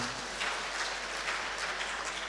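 Applause from the congregation at an HKBP church service in Depok for the installation of a functional pastor: a steady, dense wash of clapping at moderate level, continuous for a couple of seconds with no talk over it.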